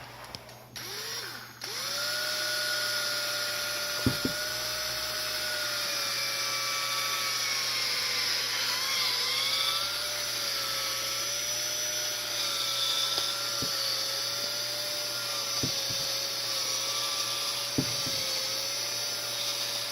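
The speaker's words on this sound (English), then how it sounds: "I might drill the hole that way a little bit so that it'll land closer" A power drill drives a bit through a hole while making a knife, whining steadily and loudly for about twenty seconds with slight pitch wobbles and a few sharp clicks.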